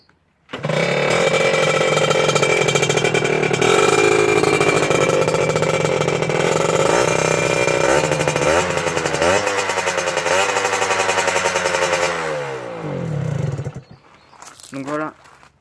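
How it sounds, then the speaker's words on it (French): Scooter engine fitted with a low-mount exhaust pipe, tested outdoors, revving loud and steady with rising and falling pitch swings for several seconds before cutting off, followed by brief faint sounds. "on se retrouve en extérieur pour le test du pot passage bas"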